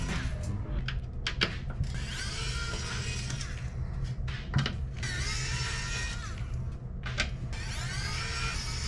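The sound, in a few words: screwdriver removing Torx T10 screws from Xbox 360 Slim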